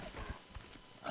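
A realistic Minecraft sound-pack horse, with a brief, faint few clip-clop hoofbeats and a soft whinny-like tone, heard alone for about a second.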